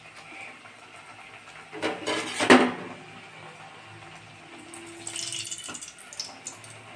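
Coconut fritter batter dropped into hot oil gives a short, loud sizzling burst, then a softer frying hiss later on, with no voices.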